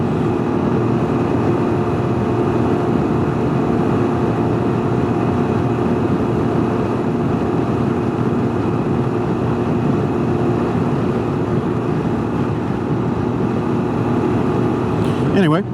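Steady engine and wind roar while riding a Can-Am Ryker three-wheeled motorcycle, constant and loud throughout with a faint hum and buffeting, a rider's voice talking over it.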